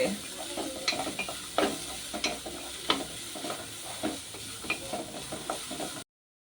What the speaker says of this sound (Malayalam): അങ്ങനെ നമ്മുടെ ബീട്രൂട്ടൊക്കെ ഒന്ന് ഇളക്കിയിട്ട്